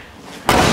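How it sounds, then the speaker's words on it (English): A 1968 Plymouth GTX car door shuts with a single solid, loud slam, preceded by quiet room tone and followed by a short ringing decay. "that door shuts just as easy as the other side"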